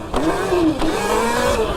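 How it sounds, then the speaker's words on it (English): An upgraded Sur Ron electric dirt bike with an aftermarket motor and controller accelerates in short bursts, its whining motor pitch rising and dipping over loud rushing wind noise, close up and without speech. "This is the next bike that's upgraded with a motor and controller, but a slightly different motor."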